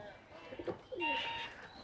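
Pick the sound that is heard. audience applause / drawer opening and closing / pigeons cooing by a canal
pigeons cooing by a canal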